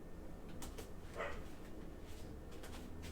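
A dog barks a few times, faint and distant, in short sharp bursts over a quiet indoor background with no talking.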